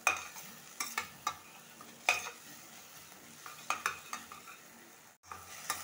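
Soft sizzling of onion and ginger-garlic paste frying in a pan with repeated sharp scrapes and stirs of a utensil, fairly quiet and close.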